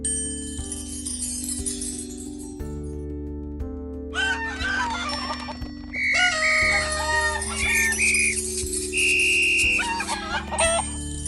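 Chickens cluck and a rooster crows in a farmyard, with bright, repeated calls growing busier and louder in the second half, set over a soft musical backdrop.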